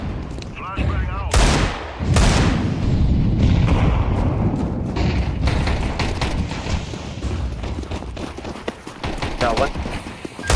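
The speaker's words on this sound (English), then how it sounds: "Flashbang out." A shooter video game erupts in dense gunfire and loud blasts, including a thrown flashbang grenade, with rapid bursts and booms layered continuously and a player talking over the noise.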